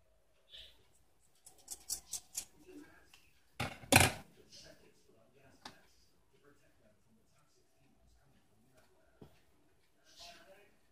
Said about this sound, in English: And then just cut at one corner and go to the other side with it.